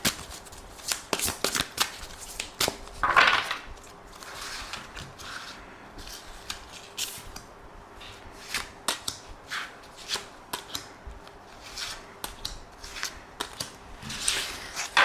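Tarot cards being shuffled for a reading, with repeated quick riffling bursts and soft slaps in an irregular rhythm, close and fairly quiet, with no talking over them.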